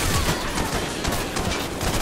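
Dense gunfire crackles in the video game Hatred, rapid overlapping shots and bursts blending into a continuous loud barrage with no pauses.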